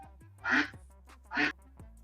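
Duck quacking twice, loud and close, each quack a short nasal burst, heard during a PUBG Mobile live stream.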